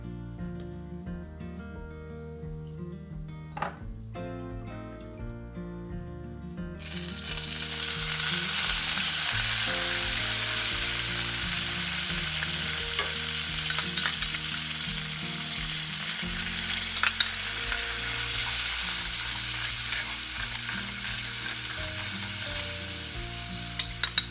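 Asafoetida (hing) sizzles in hot oil while kadi cooks, a loud, steady broadband frying hiss that bursts in after a quieter opening and keeps going over low background tones.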